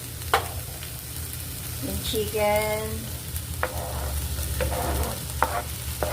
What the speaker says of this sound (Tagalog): pwede na natin ilagay yung chicken